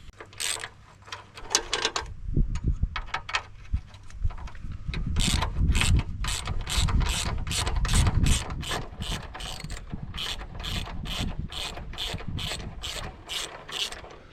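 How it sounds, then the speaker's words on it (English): A ratchet wrench turns bolts on a Mountfield tractor mower during a transaxle swap, giving rapid, loud clicking bursts in quick succession, close to the microphone, with tool knocks in between and no talking. "Ratchets are quick, aren't they?"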